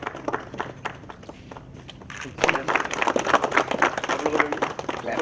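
Scattered claps at a Gunturodu movie teaser launch grow into a denser burst of applause from a small crowd, with shuffling and voices mixed in, fairly close and lively.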